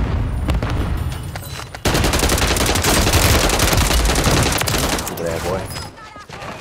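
A big gun in a shooter video game fires in dense, rapid bursts of loud automatic shots that run almost without a break, with someone talking over the gunfire.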